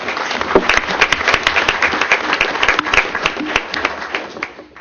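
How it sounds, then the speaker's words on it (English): A tribal council meeting audience applauds an absent health services director during an awards segment, a loud, dense, continuous patter of many hands clapping close by that holds steady throughout. "please give her a round of applause"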